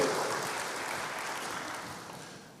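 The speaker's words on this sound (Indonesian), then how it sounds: "Berikan tepuk tangan bagi Tuhan" A church congregation claps in praise during a sermon. The applause is moderately loud and continuous, then tapers off gradually over a few seconds.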